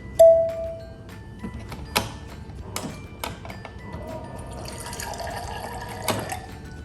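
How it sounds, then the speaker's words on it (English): Water running from a Samsung Spacemax Family Hub refrigerator dispenser into a container, a soft steady trickle broken by a few faint clicks and taps, close by. "Next let's see the water dispenser."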